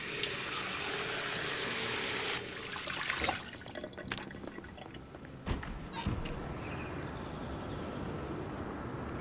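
Water being collected in a survival video game, a continuous splashing, running-water noise with a break in the middle and then a steady flow, close and fairly loud, alone without talk.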